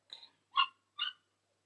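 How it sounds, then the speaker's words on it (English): A dog in the background gives three short, quiet barks in quick succession, distant and alone with no talking. "You might hear some dogs in the background."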